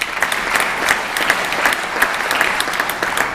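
A seated audience at a governor's State of the State address breaks into steady, dense applause, loud and sustained across the whole stretch of clapping, with no speech over it.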